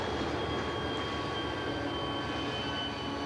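A long Canadian Pacific westbound freight train with mid-train remote units rolls past on the Laggan Subdivision, a steady broad roar of wheels and cars with faint tonal squeal, continuous and unchanging.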